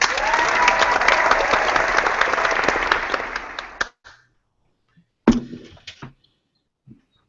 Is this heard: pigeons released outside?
no